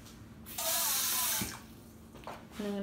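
Tap water runs into a sink while preparing tomatoes stuffed with rice and basil, a hissing stream that starts, eases off, then surges again, fairly close but quiet.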